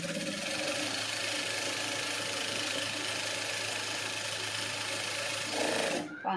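Sewing machine stitching the lining of a blouse, a steady close motor drone with fine repetitive needle clatter, running throughout and stopping abruptly at the end.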